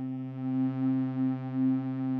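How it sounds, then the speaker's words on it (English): An Elektron Digitone II synthesizer holds a low, pure sine-wave tone from its sub oscillator. The note is smooth and unbroken, with a gently swelling level throughout. "set the sub to be just using sine waves"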